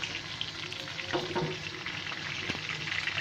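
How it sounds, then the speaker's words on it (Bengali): Raw meat frying over low heat, a quiet, even sizzle with a few faint scrapes and knocks in the pan, close and without voices. "এটা কাঁচা মাংস, এর জন্য এটা লো হিটে ভেজে নিব"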